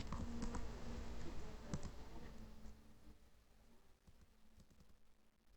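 Quick keystrokes on a computer keyboard as a Cisco router command is entered, a burst of sharp clicks and taps up close that thins out and fades toward the end.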